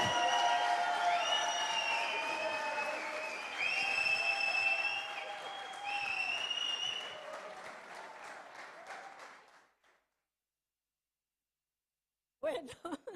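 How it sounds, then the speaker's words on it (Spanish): A church congregation applauding, with whistles and cheers, for about ten seconds before fading into silence; a voice starts speaking at the end. "Le vamos a dar un aplauso a Graciela"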